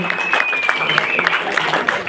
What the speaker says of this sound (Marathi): जोरदार टाळ्या होत राहू दे